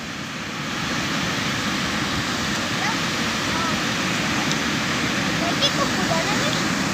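Broadband surf rolls steadily along Ngilir beach in Semarang, near Tanjung Mas harbour, with a continuous loud wash of waves. Faint voices sit under the surf.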